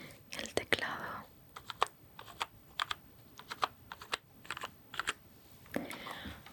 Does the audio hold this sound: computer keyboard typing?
yes